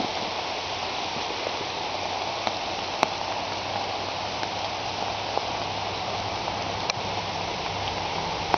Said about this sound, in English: I can really hear it raining out there